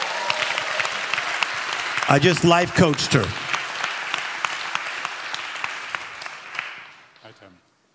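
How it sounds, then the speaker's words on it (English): A live audience at a motivational talk claps and applauds steadily, with a voice speaking over the clapping midway before it fades out. "Clap your hands like bigness is coming"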